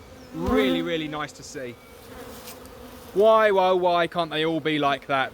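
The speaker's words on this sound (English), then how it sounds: "They're absolutely jam-packed full of bees." Honey bees buzz in a packed National hive, a steady insect hum running beneath close, clear talk from a person throughout.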